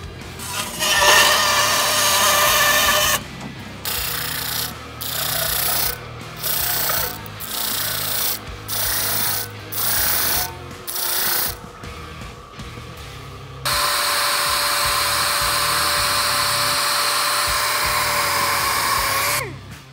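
Power tool cuts taped titanium sheet for a hood dump: a harsh, high whining grind that runs steadily, breaks into a series of short pulsed cuts, then settles back into a long continuous grind.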